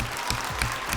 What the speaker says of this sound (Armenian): ես ուզում եմ ծափահարել քեզ